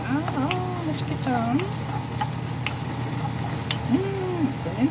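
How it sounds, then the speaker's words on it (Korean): Garlic fries in a pan, giving a steady, close sizzle that runs the whole time, with sliding melodic tones and occasional soft clicks layered over it. "마늘 향을 내기 위해서 먼저 마늘을 볶습니다."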